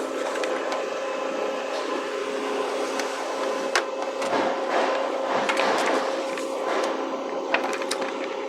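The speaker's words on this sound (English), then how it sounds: "These little printers are nice and fast." A small printer runs continuously nearby, printing label tags with a steady mechanical whir and faint clicks, and no voices.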